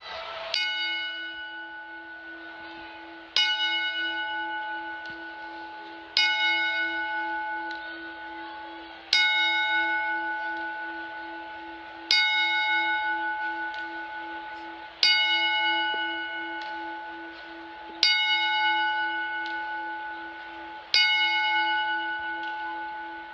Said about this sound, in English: But let's give him a 10-bell salute.